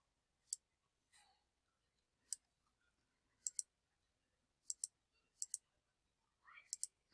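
Computer mouse clicking while selecting a cell in an Excel worksheet: sharp, close, quiet single and double clicks scattered over several seconds, with faint breaths between and no talk.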